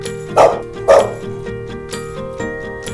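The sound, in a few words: dog barking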